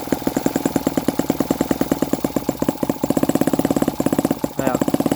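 Tiny four-stroke model engine with a heavy flywheel running at low rpm, a rapid steady chug of closely spaced firing pulses, loud and close, with a brief rev change near the end.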